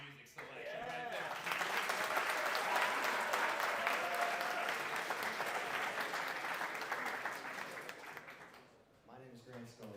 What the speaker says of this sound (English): Can we just give a round of applause for that music selection right there?